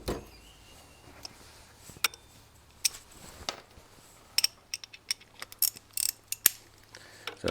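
A ratchet wrench tightens the chain adjuster bolts on a motorcycle, with a few scattered clicks at first and then quicker bursts of ratcheting ticks, close and fairly quiet.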